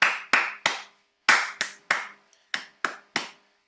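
A single person claps hands in a rhythmic pattern during a dance and music lesson, with crisp, close, separate claps in short groups and brief pauses between them, and no talking.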